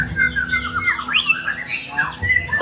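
Young white-rumped shama (murai batu) at a songbird contest gives a run of sharp squawks and rising whistled chirps, close and fairly loud, over a low murmur of background crowd noise.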